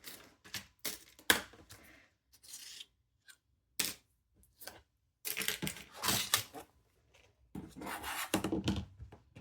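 Fabric pieces for a zippered pouch are snipped with scissors at close range, giving bursts of crisp cutting and rustling cloth broken by short pauses, with no talking.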